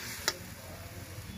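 A spatula scrapes once through taro leaves cooking in a wok, a single short stir close by over a low, steady sizzle.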